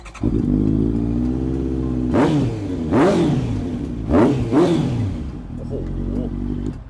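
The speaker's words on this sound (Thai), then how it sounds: "ส่วนคันนี้สีแดงแรงลิตท่อ Eagle ตัวนี้เป็นท่อฟูมาเลยนะ ก็คือเสียงจะลั่น ๆ หน่อย" A red Honda CB650F fitted with an Eagle full exhaust system idles with a deep burble, then is revved hard several times in quick bursts, each rev rising and falling back, loud and close with faint voices around.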